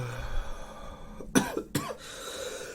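A person coughs twice in quick succession, close and fairly loud, after a short stretch of quiet room noise and breathing.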